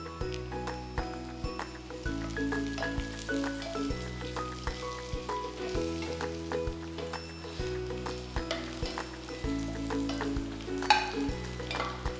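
Curry leaves and split chillies frying in hot oil for a duck roast, a steady close crackling sizzle with soft stirring scrapes throughout.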